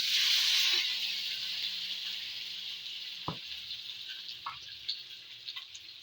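Luncheon meat frying in a pan for a sautéed vegetable dish, a loud, dense sizzle that starts strong and gradually settles, with a few sharp ticks and pops from the pan near the end.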